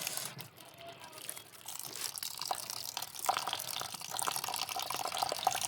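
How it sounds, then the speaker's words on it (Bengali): Water runs from a household tank over rice being washed in a village home, a steady splashing flow broken by drips and small crinkly handling noises, fairly close and with no clear talking. "ভালো করে ধুয়ে নিব চালগুলো"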